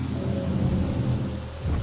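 Rain and thunder from the video game Jurassic World Evolution: a steady wash of rainfall over a deep, rolling thunder rumble that swells near the end, with no talking.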